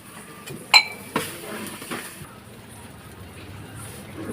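Metal blades strike a street-cart griddle while chopping chicken kothu parotta: a couple of sharp, ringing metallic clinks close together, then softer scattered taps over low background clatter.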